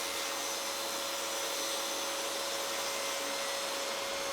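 A power saw cuts a board at a 10-degree angle, producing a steady, loud whirring drone with a constant high tone and no pauses or talking.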